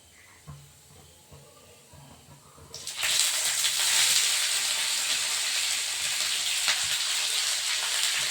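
Chopped ginger, garlic and green chili hitting hot oil for mango pickle: after a quiet stretch with light clinks, a loud, sudden sizzle bursts up and holds as a steady crackling hiss.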